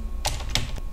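A few quick key presses on a computer keyboard, about three crisp close taps spaced unevenly over a second as a layer name is typed, with no talk.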